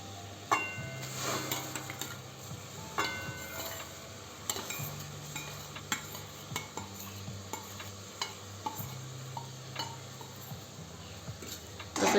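A spoon stirs soaked sago in a pot of boiling water, giving repeated scraping clinks against the metal with a steady low bubbling hum underneath, fairly quiet and close.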